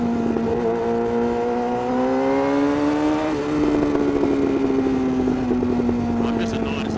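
A Yamaha R6 sport motorcycle on a night ride revs hard, its close engine tone climbing steadily in pitch, dropping briefly at a gear change, then pulling up again with a raspy, loud drone.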